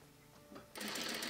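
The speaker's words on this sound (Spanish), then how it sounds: "Traten de irse por todo el orillito de la cinta crin, cosiendo" Sewing machine stitching horsehair braid along the hem of a wedding dress, a quiet hum that turns into a denser, louder run of stitching partway through.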